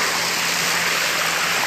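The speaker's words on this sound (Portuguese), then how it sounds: "Olha a velocidade da água" Water rushes hard over the spillway of the overflowing Manoel Marcionilo reservoir dam, making a loud, unbroken, close roar with no voices.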